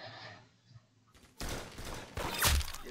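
Gunfire in the Roblox-style shooter Arsenal during a 1v1 match: after a quiet stretch, a loud burst of rapid shots erupts and continues in dense volleys, with one sharp, especially strong report near the end.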